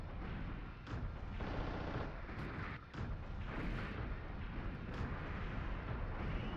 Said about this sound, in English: he's riddling me with bullets